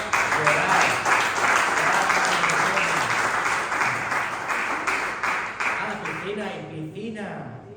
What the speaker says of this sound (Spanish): dan un fuerte aplauso